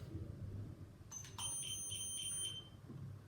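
Beeps from a Sentry security keypad confirming a settings change: a quick run of high, sharp electronic beeps in two close groups, fairly clear over a low room hum, with no talking.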